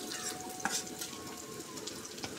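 Onions and chilies frying in a pan, a steady soft sizzle with a few light clinks of a spoon or utensil against the pan, close and moderately quiet.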